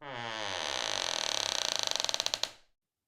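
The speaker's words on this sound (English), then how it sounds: "I woke to the unmistakable creak of the window being pushed open." Window being pushed open with a long, loud creak that starts as a smooth groan and breaks into rapid, slowing ratchety clicks before stopping abruptly, close and isolated.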